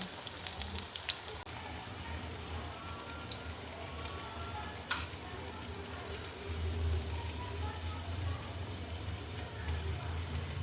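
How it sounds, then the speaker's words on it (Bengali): Bengali fritters (bora) fry in oil over low heat, producing a soft, steady sizzle at moderate distance with a few faint clicks and a slightly louder low hum toward the end. "আঁচটা আমি একটু কমিয়ে নিয়েছি, লাল লাল করে ভেজে নেব।"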